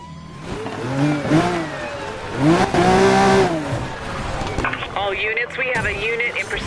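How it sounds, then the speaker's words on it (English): A speeding car engine from a police-pursuit video game revs up and down in rising and falling sweeps, loud and close, with voices talking over it. "I'm in pursuit of a high-speed vehicle on Last Stallion Ranch"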